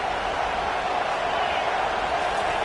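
A football stadium crowd roaring, a loud, steady, dense wall of cheering and hiss that holds at an even level without breaks.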